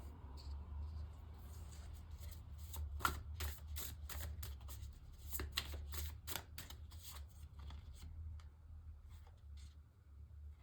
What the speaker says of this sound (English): Cards flying about.